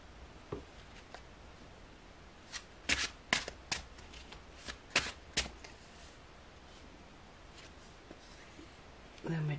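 A tarot deck is shuffled by hand in a few crisp riffling bursts and taps, close and fairly quiet over a hushed room, with a voice briefly at the end.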